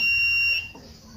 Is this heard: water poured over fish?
no